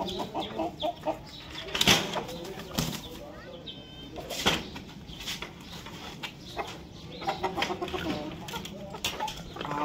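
Hens in a coop cluck and squawk in scattered bursts, some loud close calls among softer clucking, while a person talks intermittently nearby.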